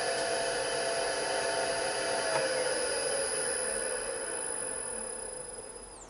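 A Record Power CL1 lathe fitted with a Speed Genie converter runs with a steady, even whine and hum of motor and drive, staying constant before easing off slightly toward the end, with no voices.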